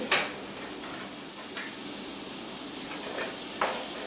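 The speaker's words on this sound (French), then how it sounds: "Une fois fondu, on rajoute l'oignon et l'ail" Onion and garlic sizzle softly in melted margarine, a steady, faint hiss with a few brief crackling bursts and no voices.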